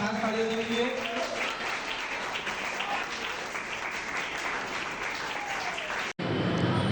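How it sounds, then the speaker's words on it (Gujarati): Sustained applause from an assembled crowd at a public gathering, dense continuous clapping held at an even level for several seconds, with a voice briefly audible at the start. "વિજયભાઈ પણ ઉપસ્થિત છે, તેમના માટે પણ ખાસ તાળીઓ દેવી જોઈએ."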